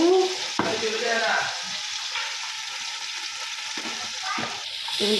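Ginger and garlic frying in a pan give a loud, steady, close sizzle and crackle that fills the whole stretch, with a brief voice and stirring scrapes near the start and end.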